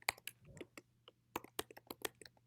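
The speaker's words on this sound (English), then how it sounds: "Somebody's typing." Keystrokes on a computer keyboard during an online group call, a quick uneven run of sharp clicks close to the microphone over a low steady hum, with no one talking.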